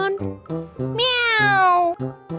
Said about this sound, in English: this is a cat. Do you know cat makes a sound?